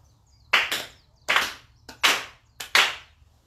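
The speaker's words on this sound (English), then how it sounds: "Let us clap our hands 4 times together" Hands clapping in unison at a memorial service, four crisp group claps in an even, deliberate rhythm, each a doubled smack, close and clear against a quiet room.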